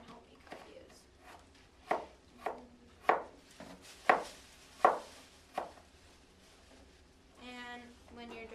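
A knife chopping food on a cutting board, six or so evenly spaced thuds in the middle, with people talking quietly around them and a brief rattle at the end.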